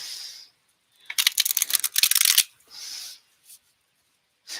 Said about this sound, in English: I'm just going to keep shuffling.